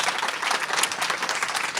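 Dense audience applause after a founder's startup pitch at a live feedback session, a steady wash of many hands clapping close by that fills the whole stretch without a break.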